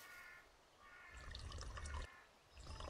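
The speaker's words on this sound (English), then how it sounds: "Hold F to refill the water." Water splashes and trickles as it refills from a well in the farming horror game Pumpkin Panic, two bursts of pouring amid soft crow-like caws in a faint outdoor ambience.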